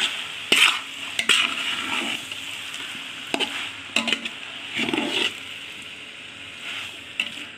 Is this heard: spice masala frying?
yes